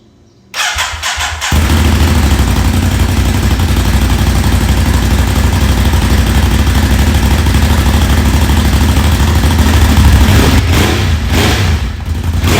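A 2020 Ducati Monster 821 motorcycle engine cranks briefly, catches, and settles into a loud, steady, close-up idle that holds with a slight lumpy pulse until the end, with no talking.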